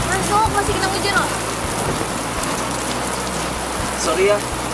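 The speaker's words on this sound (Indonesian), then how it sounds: "Masuk, masih kena hujan loh." Rain falls steadily as a dense, hissing wash of drops, close and fairly loud, with a few faint low thuds beneath.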